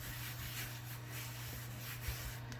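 A hand rubs paper down onto a Halloween mini album page with a soft, continuous close scuffing, a faint low hum beneath and no speech.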